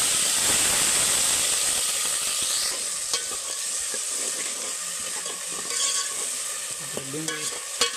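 Cumin seeds sizzling in hot oil in a pan while making Kathiyawadi ringan no oro, a steady loud frying hiss across the whole stretch with scattered crackles and a few stirring clinks near the end.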